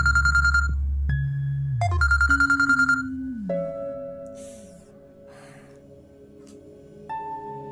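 A phone ringtone chimes in repeated short electronic bursts, followed by gliding synthetic tones and a soft breath, loud and close.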